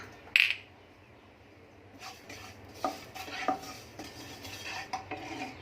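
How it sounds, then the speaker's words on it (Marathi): Poppy seeds dry-roast in a pan for Diwali karanji filling, with a quiet clink early on, then soft, intermittent scraping stir strokes, faint and close, no voices. "आपण खसखस भाजून घेऊ"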